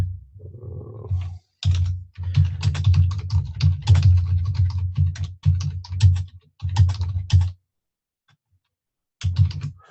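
Rapid typing on a computer keyboard, dense bursts of key clatter with brief pauses and a low steady hum beneath, close and fairly loud.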